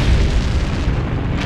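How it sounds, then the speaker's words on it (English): A sustained, loud explosion rumble representing a nova, a star blowing apart in space, with dense low-end boom and continuous roar across the whole moment and no voices. "Nova explosion."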